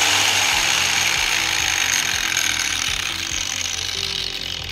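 Handheld angle grinder switched on and running steadily with a loud, continuous high-pitched whine and motor drone, close and alone for the whole stretch.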